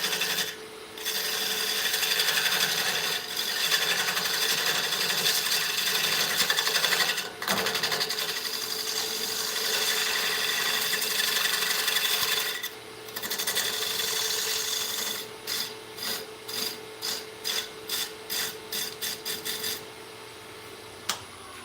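A wood lathe spins as a face plate for the top of a vase is turned, giving a steady whirring, scraping drone. Toward the end the sound breaks into a series of quick, rhythmic cuts, close by with no voices.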